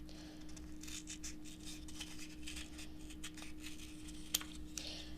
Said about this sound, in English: I'm going to grab a 2nd cup and going to cut off the extra again